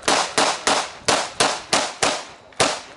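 Pistol shots fired during a close quarters pistol drill, eight sharp cracks in a steady, fairly quick rhythm, each loud and close with a short ring-out and no talking.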